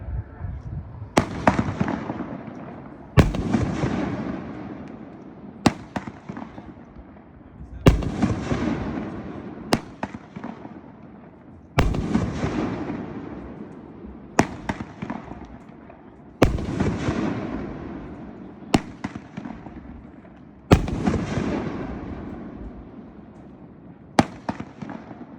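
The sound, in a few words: Dead Shot 500 gram firework cake by Pyro Diablo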